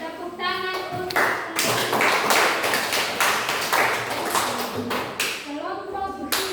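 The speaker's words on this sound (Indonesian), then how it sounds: "tepuk tangan untuk" Classroom applause for a student group during a Catholic religious education lesson, a burst of brisk clapping from several people that swells and then thins out, with some voices mixed in.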